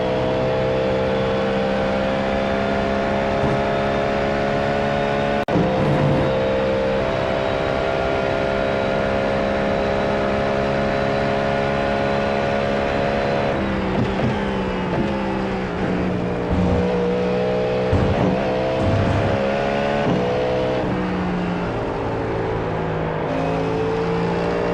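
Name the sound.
Cadillac GTP race car engine in the iRacing video game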